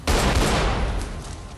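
Dense burst of rapid gunfire from the video game Saints Row the Third, loud and continuous with overlapping shots rolling together throughout, no voices over it.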